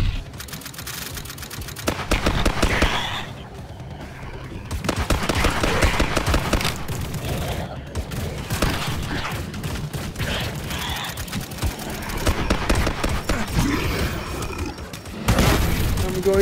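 Rapid bursts of automatic gunfire while shooting enemies in the Space Ops VR video game, repeated loud rattling volleys with booms and mechanical clanks, and voices talking intermittently between them.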